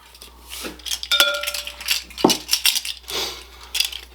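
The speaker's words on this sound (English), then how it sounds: "Once I find the right spoon here, we'll be good to go." Metal spoons clinking and rattling against one another in a kitchen while someone rummages through them, with a few ringing taps among busy, close handling noise.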